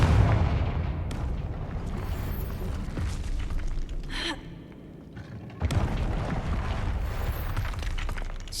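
A Confringo fire spell from Hogwarts Legacy goes off as a loud, booming blast with a rumbling roar, followed by a quieter lull and another surge of heavy game noise, with no speech.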